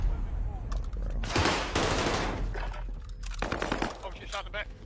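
Rapid automatic gunfire rattles in a shooter video game, sharp bursts of shots in quick succession heard at a moderate level.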